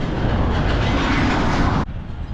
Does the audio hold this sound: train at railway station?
yes